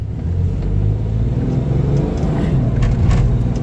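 1990 Toyota Land Cruiser accelerating on a lot from first into second gear, a close, moderately loud low engine rumble and tire noise that pulls steadily, with a slight change in pitch near the shift.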